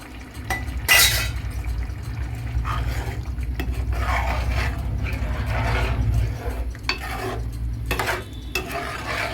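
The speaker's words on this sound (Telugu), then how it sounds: "ఉడకాలంటే నేను ఇంకా కొంచెం వాటర్ యాడ్ చేస్తున్నాను" About half a litre of water goes into a pot of simmering home-made chicken curry, making a sustained close rushing pour with metallic clinks of a utensil against the pot before and after.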